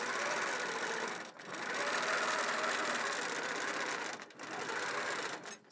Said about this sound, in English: I'm just going to continue filling in all of this background area with sharp stippling